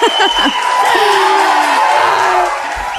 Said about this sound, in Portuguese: Palmas para ela, gente.